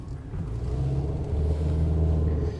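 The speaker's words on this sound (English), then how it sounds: "the Nissan Versa Note actually accelerates and it's good to go" A 2016 Nissan Versa Note SR accelerates from inside the cabin, its engine rumbling low and rising in pitch and loudness as it pulls, with no talk.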